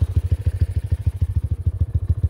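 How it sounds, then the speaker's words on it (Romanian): A 250cc street ATV quad with road tyres rides offroad through a forest at night, its engine chugging in a steady, rapid, close-up pulse of low thumps with light clatter. "În seara asta ne plimbăm cu un ATV de stradă cu cauciucuri de ovad, cu motor de 250 cc."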